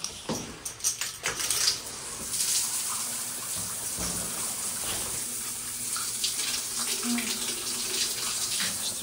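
Water running from a shower in a basic washroom, a steady broadband hiss that carries on continuously after a few brief clatters at the start, with no talking.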